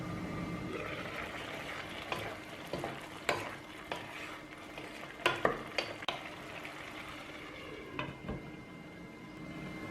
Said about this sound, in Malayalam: ഇടയ്ക്കൊന്ന് ഇളക്കി കൊടുക്കാം.